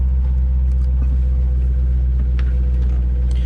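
A C7 Corvette Z51 V8 idles close by with a failed AFM lifter, a deep steady rumble overlaid with faint irregular ticking and tapping from the valvetrain.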